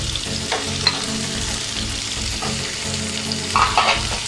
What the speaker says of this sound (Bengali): এবার আমি এগুলো ভালো করে ফ্রাই করে নেব।